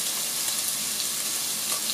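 Diced bacon and pork shoulder fry in a pan, giving a steady, close hiss of sizzling fat with small pops scattered throughout and no talking.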